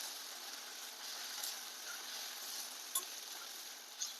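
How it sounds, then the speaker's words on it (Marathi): Chopped onion dropped into well-heated oil and frying, a faint, even hiss of sizzling with a couple of small clicks from stirring. "टाकू आपण कांदा आता कांदा आपल्याला सांगा जरा थोडा लाल होईपर्यंत परतून घ्यायचा आहे"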